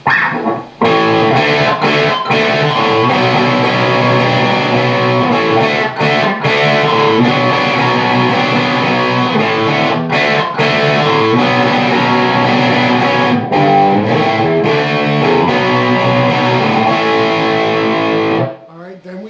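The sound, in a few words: distorted electric guitar chord progression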